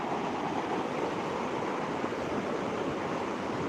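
A steady, unbroken roar of a flooded river swollen by heavy rain, broad and full, with no voices or breaks.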